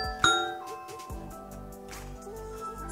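A single bright electronic chime from an Amazon Echo announcing a Ring doorbell press rings out once near the start, then fades under a faint steady background hum.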